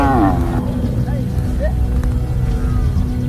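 Cattle belonging to Wodaabe herders low in a few drawn-out calls over a steady low rumble, with faint voices in the background.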